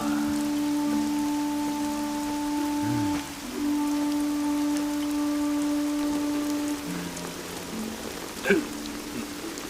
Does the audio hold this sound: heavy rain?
yes